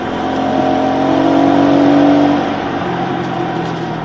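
Motorcycle engine running while riding a trail near Chattanooga, a loud close steady drone that rises in pitch, holds, then settles back to a lower hum, no voices.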